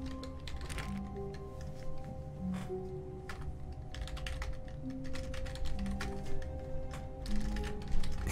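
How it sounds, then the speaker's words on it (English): Rapid keyboard typing from a character in The Stanley Parable video game, a steady run of dense clicks at moderate level over a low background hum, with no talking. "He's like typing open sesame and stuff."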